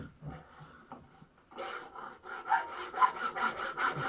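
Hand saw cutting through PVC pipe, with a few tentative strokes followed by a steady run of rhythmic rasping back-and-forth strokes, close up and fairly loud.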